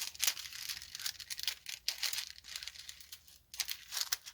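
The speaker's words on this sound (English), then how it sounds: "I take my Jiffy scissors, my Fiskars, and I just cut it" Fiskars scissors snip through the thin plastic cover of a diamond painting, making close, crisp crinkling and rustling cuts in quick irregular bursts.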